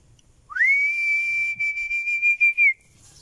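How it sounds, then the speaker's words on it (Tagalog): A single sustained high human whistle calling chickens, rising at the start then held steady, breaking into several short pulses near the end; loud and close, no talking. "Pag pumito tayo mga kapits, ayan, darating sila."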